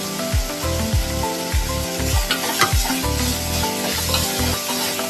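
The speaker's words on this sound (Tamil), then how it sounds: "அப்போதான் நீங்க உப்பு போட்டாதான் வெங்காயம் சீக்கிரம் வதங்கும்." Onions and curry leaves sauté in a pan for Chennai-style prawn thokku, a steady loud sizzle with repeated stirring scrapes across the pan, close by, with no talking.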